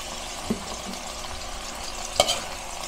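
Chicken gizzards and liver with soy sauce being stirred in a pan, a couple of quiet spatula scrapes and clicks over a low, steady sizzle.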